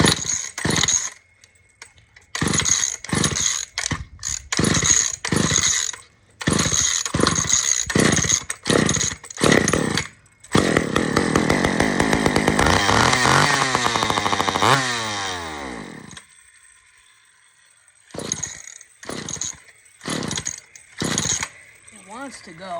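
An old Sears Explorer II chainsaw is pulled repeatedly and sputters in short bursts. Then it catches, roars and revs for several seconds before cutting out, followed by more short sputtering pulls. It is loud and close, with some talking in between.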